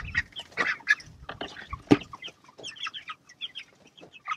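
A small chicken grabbed from a chicken tractor on a farm lets out close, irregular squawks and clucks in short agitated bursts.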